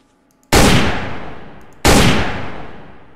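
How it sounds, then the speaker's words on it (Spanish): Two loud, booming video game gunshots in Sneak Thief, about a second apart, each with a long decaying echo, nearby and without any talking. "si disparo esto"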